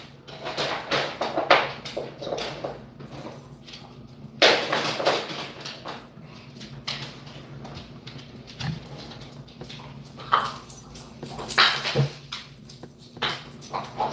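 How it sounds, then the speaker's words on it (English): Dogs play in the background, with scuffling, thumps and small yips coming in irregular bursts at moderate distance over steady low room noise. "Y'all hear my dogs playing in the background"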